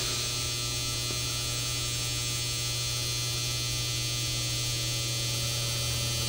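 An old Polar Cub electric fan with a weak motor hums steadily up close, a constant low electrical drone with a faint whirring overtone and no talk.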